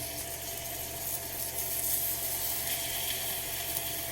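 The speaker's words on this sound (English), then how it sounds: "I'm just going to toss it in the hot pan. You'll hear it start to sizzle." Ham sizzles in a hot pan, a steady crackling hiss that holds at an even level throughout.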